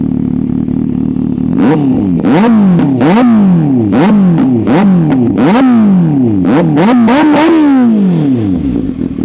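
A motorcycle engine with an aftermarket exhaust revs in a rapid series of about ten sharp throttle blips over a low idle, loud and close, with each rise and fall distinct.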